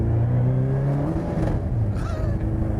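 A Megabusa, a small car powered by a Suzuki motorbike engine with a sequential gearbox, howls past at speed, a whining engine tone rising and shifting with a brief mechanical clunk, fairly near and continuous.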